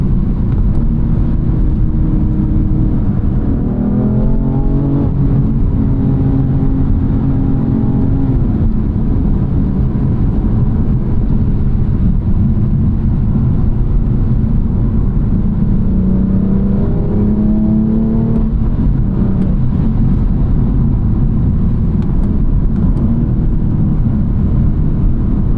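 A 2017 BMW M3 F80 turbocharged engine accelerating under boost: a loud, continuous drone heard from inside the car, its pitch sweeping upward through the gears with no break.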